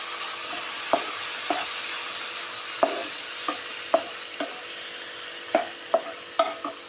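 Prawns sauté in melted butter in a pan, a soft steady sizzle broken by about a dozen sharp spatula taps and scrapes at uneven intervals, close and clear.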